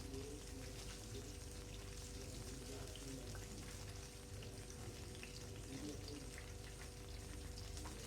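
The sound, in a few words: potato and cauliflower pakoras frying in hot oil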